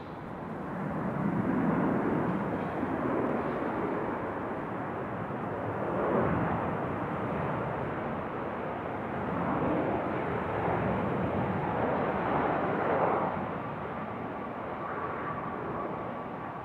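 A United airliner from Houston passes at Raleigh-Durham airport. A broad, steady jet roar hangs at a distance and swells and fades gently over the whole stretch, with no voices.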